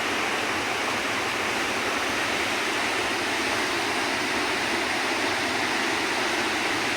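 Spring water at Bhima Kunda in Odisha gushes out under strong pressure, a steady, loud, full roar that holds unbroken from start to finish with no voices.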